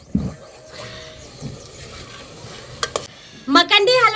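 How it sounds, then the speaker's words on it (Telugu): Makhandi halwa stirred in a hot pan, with scattered scraping and clinking strokes over a low sizzle, a few sharp knocks, and a burst of louder scraping at the end. "ఇది అడుగు అంటకుండా కలుపుకుంటుండాలి"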